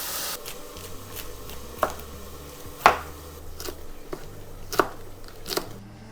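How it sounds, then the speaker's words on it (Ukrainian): A knife shreds cabbage on a board for home meal prep, giving a handful of sharp, separate chopping thuds spaced irregularly over a soft background hiss, with no voices. "ось я вже нашинкувала капусту"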